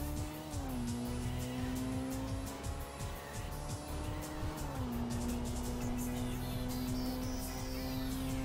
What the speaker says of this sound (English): As I understeer into the wall